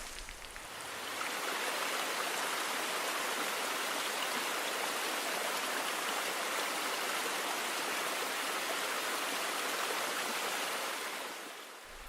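Water rushes and splashes on the Splash Mountain log-flume ride in the Disney Infinity 3.0 video game, a loud, steady broadband roar that swells in at the start and tapers away at the very end.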